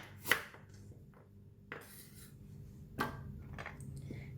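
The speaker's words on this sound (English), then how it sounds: "If the garlic is too big, you just cut it into half." A knife chops garlic and ginger on a cutting board, with three spaced, quiet thuds against a hushed room background.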